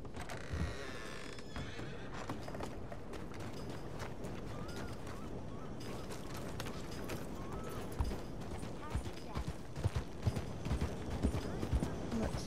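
Steady clip-clopping of horse hooves in a video game runs throughout, mixed with a horse's whinny and busy game background noise, fairly loud and continuous.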